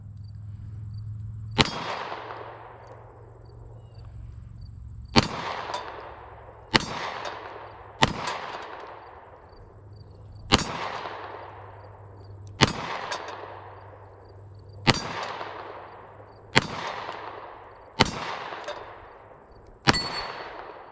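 A 40-year-old surplus Beretta 92 pistol fires single-action shots, ten loud cracks at an unhurried, uneven pace over about twenty seconds, each ringing out with a metallic echo that decays before the next shot.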